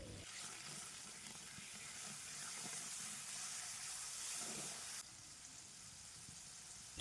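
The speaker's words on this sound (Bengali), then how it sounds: "এটা খানিকক্ষণ একটু নাড়াচাড়া করে জল দিয়ে দেব" Water poured into a hot frying pan with puti fish curry base, giving a loud, steady hiss and sizzle that drops abruptly partway and then continues more quietly.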